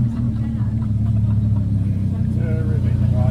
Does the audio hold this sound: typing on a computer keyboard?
no